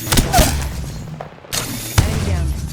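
Gunfire in the Apex Legends battle royale game, a few sharp shots and thumps at close range over a busy backdrop, with a voice talking in between.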